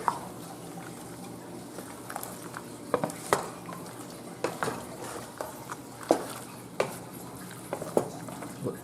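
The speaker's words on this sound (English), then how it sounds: "make sure you stir everything together" A pot of rabbit stew with dark beer is stirred with a utensil: soft liquid sloshing with scattered scrapes and light clinks against the pot, fairly quiet and close, no talking.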